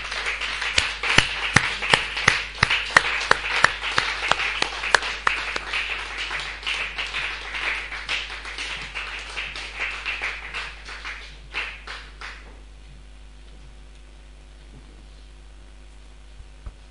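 Church congregation clapping in rapid, irregular bursts, steady and fairly loud for about twelve seconds before thinning to a few scattered claps and fading out.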